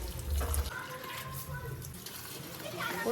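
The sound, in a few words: pouring water onto plants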